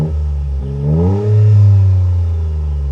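Toyota GR Corolla fitted with a 2J-Racing exhaust revs up once, the note climbing to a loud, throaty peak, holding briefly, then falling back to a deep idle rumble, heard close by outdoors.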